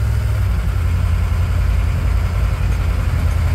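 A Humvee M998 engine runs at a steady idle, a deep continuous low rumble with constant vibration, loud and close with no talk over it.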